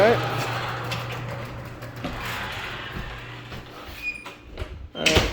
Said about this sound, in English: I'm gonna close the garage door now